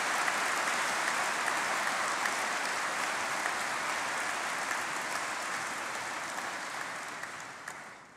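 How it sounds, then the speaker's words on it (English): A large graduation congregation crowd gives a long, even round of applause, a continuous wash of many clapping hands that holds steady for several seconds before tapering off at the end. "So let's give a big round of applause to everyone who's helped you behind me today."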